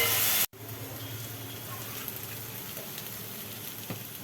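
Poppy seed paste fries and sizzles steadily in a pan while being stirred, a continuous close crackle after a brief silent cut near the start, with soft scraping of the spoon.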